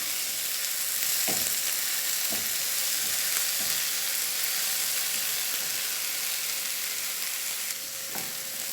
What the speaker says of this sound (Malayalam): അതുകൊണ്ട് തക്കാളിയും കൂടി ഒന്ന് വഴന്ന് വരട്ടെ, അതിന് ശേഷം പൊടികൾ ചേർക്കാം.